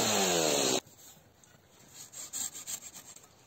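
A loud burst of rasping at the start cuts off sharply, followed by quieter, uneven scraping strokes of a garden hand saw biting through a tree branch.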